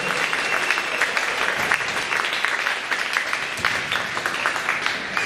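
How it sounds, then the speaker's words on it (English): Clapping from an audience at a school assembly for the boys team, a dense continuous round of applause from many hands, fairly loud and steady throughout. "How about one more round of applause for our boys also?"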